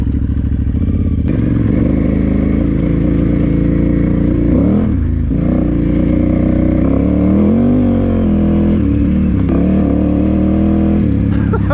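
A 2009 KTM 990 Adventure R motorcycle is ridden through the desert at night, its engine droning loud and constant with wind roar and slight pitch shifts as the throttle changes.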